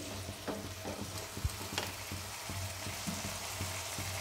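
Potatoes cooking in a pan hiss and sizzle steadily as a little water is added, with a soft continuous crackle and occasional stirring clicks, close up, while curried banana flower is being prepared.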